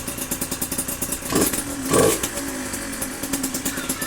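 A Suzuki RMX dirt bike engine idles after starting on the first kick, a close, rapid two-stroke putter with a steady beat, swelling briefly twice as the throttle stirs before settling back to an even idle.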